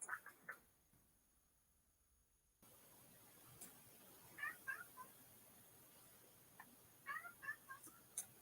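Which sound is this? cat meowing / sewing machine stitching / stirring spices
cat meowing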